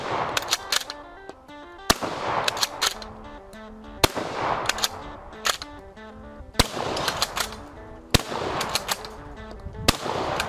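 Rifle shots firing Turkish 8mm Mauser ammunition, five sharp loud cracks spaced about two seconds apart, with mechanical clatter and handling noise between them.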